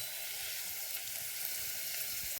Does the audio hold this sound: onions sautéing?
yes